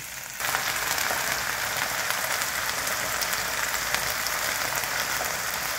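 Onions frying in a pan for a tangy, spicy cauliflower dish, a steady close sizzle and crackle like light rain that holds evenly from start to finish with no talk.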